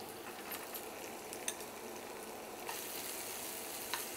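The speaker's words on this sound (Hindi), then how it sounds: "बीन्स को भी 2 से 3 मिनट तक फ्राई करना है।" Finely chopped beans sizzle steadily in a frying pan, a soft continuous hiss with occasional light clinks of a utensil.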